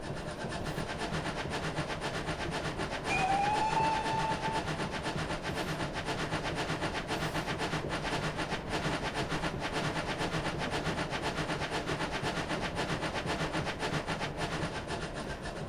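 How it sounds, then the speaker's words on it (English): A train's coach wheels give a brief high metallic flange squeal over a steady rolling rumble and rhythmic clatter, heard from the cab of a Pannier tank engine. "Lovely bit of flangey squeal."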